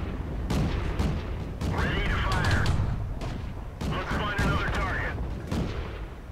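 Tank cannon fire and shell impacts in a World of Tanks battle, several heavy booms and cracks spread across the span, loud and close, with engine rumble and game sounds underneath.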